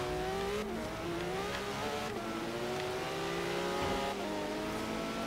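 Race cars engines in the Forza Horizon 3 video game, including a Porsche GT3 RS, roaring steadily and loud with rising and falling revs as they drive, alone without talk.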